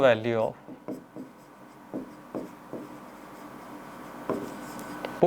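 Chalk or marker writing on a board during a maths lesson on sequences and series, short scratchy strokes repeating every second or so, close and clear, with a brief voice at the start.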